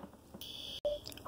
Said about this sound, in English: I pulled the fire alarm